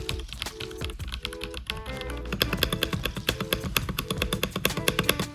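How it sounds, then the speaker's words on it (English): Rapid clacky mechanical keystrokes from a hot-swap keyboard with yellow switches, close and steady, growing busier and louder partway through as fast continuous typing sets in. "It's hot swap with some yellow switches and just hear the sound."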